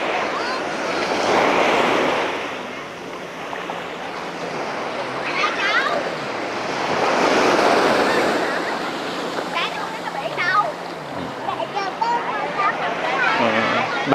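Ocean waves surge and break on the back beach at Vung Tau, Vietnam, at rising tide, swelling in two loud washes with steady wind noise and a voice talking faintly over the surf.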